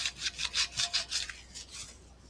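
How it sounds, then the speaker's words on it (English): Wet sanding on a guitar body, a run of quick back-and-forth rasping strokes, close and fairly crisp, about eight strokes that fade out toward the end. "Wet sand."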